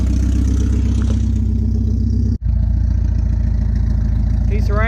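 A Porsche 944 engine idling with no muffler, a loud, steady, throbbing low rumble close by, with a brief cut midway and talking over it.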